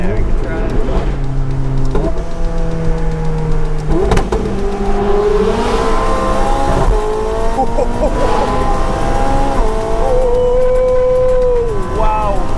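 A supercar accelerates hard, its engine note climbing through several stepped gear changes over roughly twelve seconds, loud and close against a constant roar, with excited voices talking over it.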